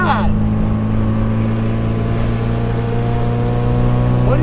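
A 1967 MGB Roadster vintage racer with roughly 130 horsepower, its engine droning steadily at high revs with a loud, buzzing exhaust note that rises in pitch at the start and again at the end.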